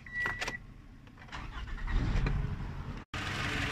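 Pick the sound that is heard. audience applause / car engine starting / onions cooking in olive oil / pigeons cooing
car engine starting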